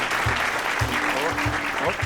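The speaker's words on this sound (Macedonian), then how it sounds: "Голем аплауз." Studio audience applause greeting a guest on a Macedonian New Year's special TV show, continuous clapping over music with people talking faintly over it.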